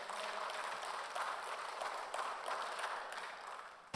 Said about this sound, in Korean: 박수 영광 돌리겠습니다.